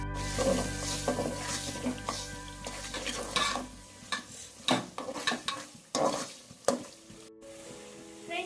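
Chicken roasting in a pan with turmeric and fenugreek seeds sizzles softly, with a spoon repeatedly scraping and stirring against the pan in irregular bursts, fairly close and with no talking.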